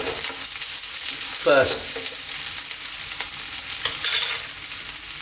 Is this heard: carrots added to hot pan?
yes